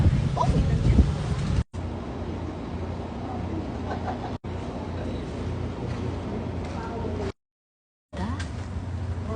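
Steady rumbling wind buffets the microphone for several seconds, broken by a few abrupt cuts, with voices faintly mixed in.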